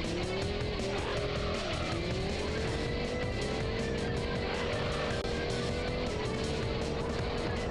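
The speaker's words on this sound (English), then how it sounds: "God, I just keep spinning out." A car in the Auto Modellista racing game spins out, its tires squealing in long sustained howls over a steady loud engine drone with no break.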